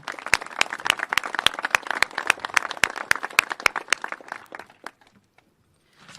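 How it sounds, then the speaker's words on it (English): An audience in a downtown hall applauds the governor: sharp, fairly close rhythmic clapping that swells, then thins out and stops near the end. "let's give him a round of applause for investing in our community"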